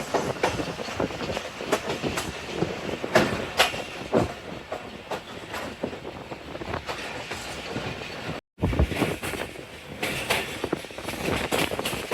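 A Pakistan Railways passenger train running on the Narowal section near Kala Akhtar station, with a loud continuous rumble and rhythmic clickety-clack of wheels over rail joints, briefly cutting out before the rattling resumes.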